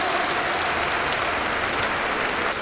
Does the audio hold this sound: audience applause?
yes